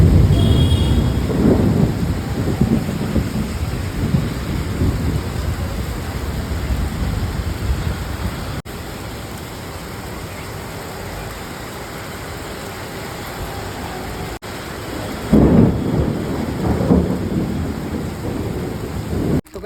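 A heavy downpour pounds steadily during a thunderstorm, with loud rumbling thunder swelling near the start and again toward the end over the constant hiss of rain.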